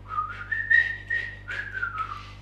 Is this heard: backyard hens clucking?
no